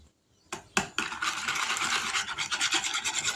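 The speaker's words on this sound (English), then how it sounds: "we're going to whisk this up" Donut batter with vanilla being whisked in a bowl, a few sharp taps, then continuous fast scraping and clicking strokes, close and fairly loud with no talk.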